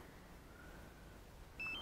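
A DJI Mavic Pro remote controller powering on gives a short, clear electronic beep at the very end, after quiet room background.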